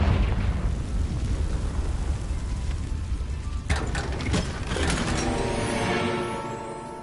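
A Confringo spell explosion in Hogwarts Legacy, a dense, loud, rumbling blast with a sharper burst partway through, then crackling debris that fades out toward the end.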